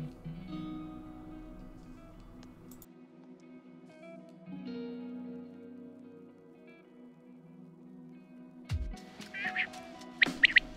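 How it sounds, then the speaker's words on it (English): A male common quail calls outdoors in Sardinia. Its short, clipped bursts of notes come near the end, after a long stretch of low droning background tones. "The very recognisable call of a male quail."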